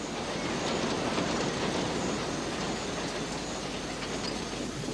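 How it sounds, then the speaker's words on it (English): A small train travelling through the Sri Lankan highlands, heard as a steady, dense rumble of wheels and carriages with faint clatter and squeal, continuous and fairly close throughout. "The little train has brought us up into the highlands of Ceylon."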